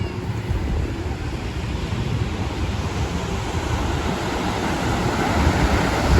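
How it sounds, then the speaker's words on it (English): Ocean waves wash onto the beach in front of a hotel in Puerto Vallarta, a steady, soft rush of surf heard at moderate distance with light wind noise and no talking. "So here's the beach from the hotel."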